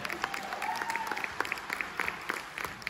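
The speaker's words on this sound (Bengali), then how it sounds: "সায়নীর গানের জন্য আরেকবার একটু হাততালি।" Applause for Sayani's song at a stage event, a small audience clapping lightly and scattered, soft and fairly distant, with a faint voice underneath.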